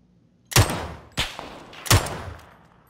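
Three loud gunshots ring out in the video game PUBG, spaced unevenly with sharp attacks and short echoing tails, each fading before the next.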